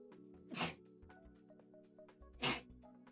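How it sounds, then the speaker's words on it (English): Two loud sneezes from a person, about two seconds apart, each a sharp burst close to the microphone over a quiet background hum. "Oh, I feel sneeze coming on."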